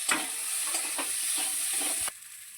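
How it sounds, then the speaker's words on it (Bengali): Fried cauliflower is being cooked down with spices, turmeric and salt in a pan, giving a quiet steady sizzle with a few soft stirring scrapes before it suddenly drops lower near the end. "ভেজে রাখা ফুলকপি দেওয়ার পরে মশলার সঙ্গে কষিয়ে নিচ্ছি"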